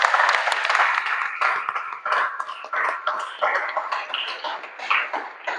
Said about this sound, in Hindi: आइए प्रभु को हम लोग धन्यवाद का ताली दे